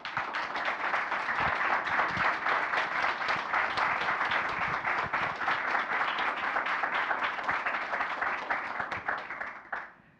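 Sustained applause from a conference audience after a talk at a Python developer gathering in Italy, dense steady clapping throughout that tapers off near the end.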